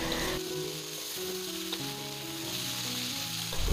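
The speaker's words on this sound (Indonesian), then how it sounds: "Kemudian kita aduk-aduk hingga semuanya tercampur merata." Vegetables with oyster sauce are stirred in a hot pan, giving a continuous, even sizzle and frying hiss that carries through the whole clip beneath soft background music.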